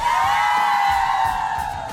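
A crowd of family supporters at a televised cooking contest cheers and whoops, a dense, sustained roar of voices rising together near and loud.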